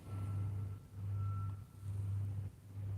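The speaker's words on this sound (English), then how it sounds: "Someone is reversing the car." A vehicle reverses outdoors while a steady, rhythmic reversing alarm repeats four times, each beep followed by a short gap, over a low engine rumble that carries on underneath.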